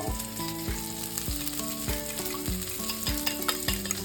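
Onions sizzling and frying in a pan for a spicy chili omelette, a steady close crackle with no voices, layered under rhythmic harmonic tones from background music.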